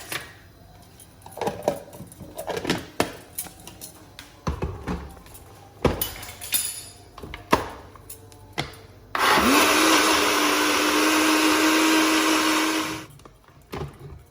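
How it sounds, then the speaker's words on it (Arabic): A few seconds of tapping and clinking give way to an electric blender whirring loudly and steadily for several seconds mixing milk and whipped cream, then stopping. "واضربه بقى في الخلاط."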